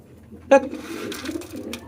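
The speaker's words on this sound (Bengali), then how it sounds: "আমাকে চারিদিকে একদম জাফিয়ে পড়ে আমার উপরে কবুতরগুলা দেখেন কি অবস্থা" Domestic pigeons crowd and flap around close by during rainy weather, giving a sharp wing-flutter burst followed by soft, low cooing that continues through the rest of the short moment.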